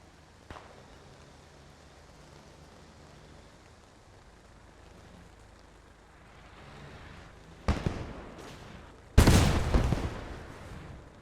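Gunfire in the World War II shooter Post Scriptum during a realism event: a faint crack early on, then two loud, sharp shots near the end over low battlefield ambience.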